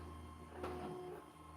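A Creality Hi Combo 3D printer printing in black filament, with a steady mechanical whir and a constant low motor hum running throughout, rising slightly in the middle, heard alone with no talk.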